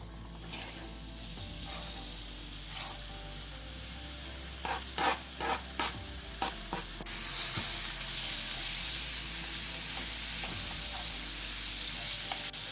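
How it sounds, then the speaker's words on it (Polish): Chicken pieces sizzle in a hot frying pan used earlier for onions, a steady close crackle broken by scraping stirs, no talk. "wrzucamy go na rozgrzaną patelnię, na tą samą, na której smażyliśmy cebulę"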